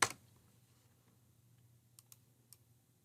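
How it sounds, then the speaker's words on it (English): A computer keyboard gets a few sparse, faint key clicks in a quiet room, with isolated taps separated by near silence. "I can just literally click and type that in"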